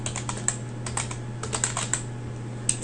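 Keys on a computer keyboard clatter in quick, uneven bursts of close, crisp taps, with a steady low hum in the background and no talking.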